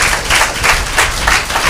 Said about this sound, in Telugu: ఓసారి అందరు గట్టిగా చప్పట్లు కొట్టి ప్రభు స్తోత్రం చేద్దామా?